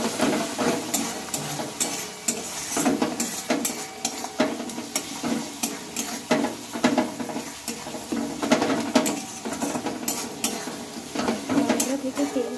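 Chili powder gets stirred into a sizzling spice paste in a pan, rhythmic scraping strokes of a spoon repeating every second or so over a steady frying hiss, close and fairly loud.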